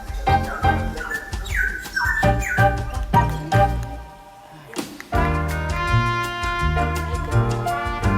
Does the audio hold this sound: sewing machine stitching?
no